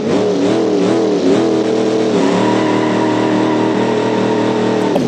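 A classic muscle car's engine in the BeamNG driving game, with loud close revving that rises and dips in pitch before settling into a steady, throaty idle-rev.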